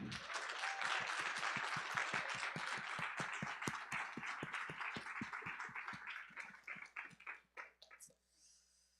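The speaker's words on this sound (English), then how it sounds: "thunderous applause." An audience at a Venture Challenge competition claps for the finalists, steady full applause in a hall that tapers off into a few last claps near the end.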